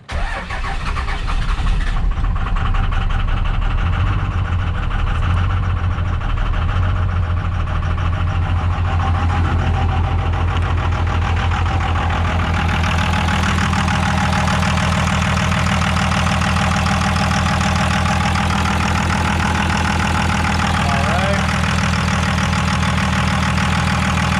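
A 24-valve diesel engine with a VP44 injection pump cranks and catches, then idles roughly while missing a cylinder. The loud, uneven chug carries on close by for the whole stretch, with no talking.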